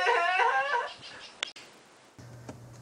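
Dogs playing let out a brief burst of high whimpering yips up close, then fall quiet apart from a couple of faint thumps and low background noise.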